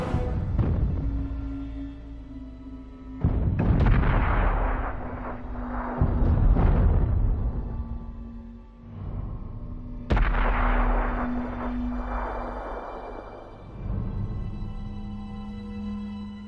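Heavy tank cannon shots from World of Tanks on console, with three booming blasts that each roll off into long rumbling decay over a steady low engine drone.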